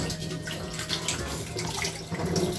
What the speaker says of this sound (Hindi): श्रेया अपनी प्लेट धो के रख रही है ताकि मम्मा को एक्स्ट्रा वर्क ना हो